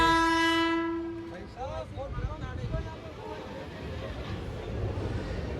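A train arriving at Chittorgarh railway station in Rajasthan sounds a long, loud horn blast that cuts off, followed by a continuous rumble of rolling wheels with voices in the background.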